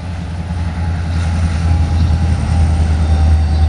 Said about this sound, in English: this train was Norfolk Southern L38 backing up